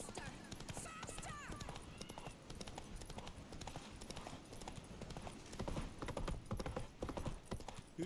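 A horse gallops in The Witcher 3 during a chase, its quick hoofbeats running steadily under music and in-game voices and shouting.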